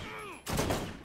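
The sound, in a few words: gunfire in the video game Borderlands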